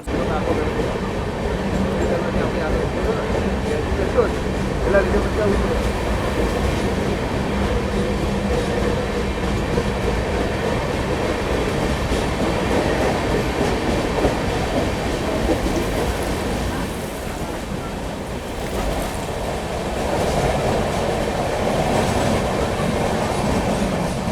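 A passenger train climbs the Kasara ghat section in heavy monsoon with extra banker locomotives attached, giving a steady, loud onboard rumble and rhythmic clickety-clack of wheels that runs unbroken for the whole stretch.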